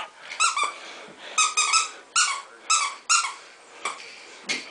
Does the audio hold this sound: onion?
no